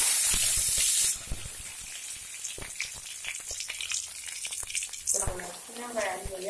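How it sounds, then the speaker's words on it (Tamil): Mustard seeds crackle in hot oil for tempering Tamil paruppu usili: a bright spitting hiss bursts loudly at first, then settles into scattered pops and crackles, with a voice speaking briefly near the end. "இந்த பக்கம் எண்ணெய் ஊற்றி கடுகு தாளிச்சிருக்கேன்"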